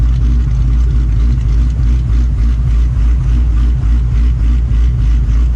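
A cammed Ford Terminator Cobra V8 idling, a deep, loud, lumpy rumble with a steady choppy pulse that holds evenly throughout, close by and alone.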